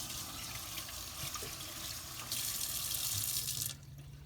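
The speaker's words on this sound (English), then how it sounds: "I'm going to rinse my hands off." Running tap water splashes steadily as hands are rinsed at a kitchen sink, the flow swelling louder near the end before the tap shuts off, with no voices.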